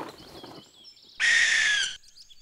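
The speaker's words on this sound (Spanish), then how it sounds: "Y ese búho es una lechuza." A cartoon barn owl gives one loud, harsh screech of about 0.8 seconds, cutting in sharply over softer chirping and whistling bird calls that continue around it.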